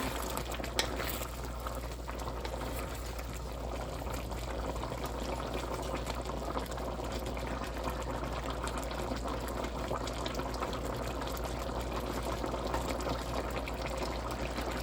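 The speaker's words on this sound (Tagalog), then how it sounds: "talagang kumukulo-kulo na siya" A pot of chicken curry with coconut milk bubbling at a steady, continuous boil, a dense close simmering rumble with no voices throughout.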